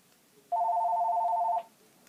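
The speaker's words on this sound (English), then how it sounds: "phone's ringing" A telephone rings with a steady electronic two-tone trill lasting about a second, clear and close against a quiet room.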